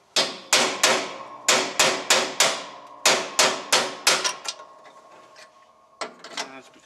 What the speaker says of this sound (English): You need a bigger hammer instead of piddling around with that thing.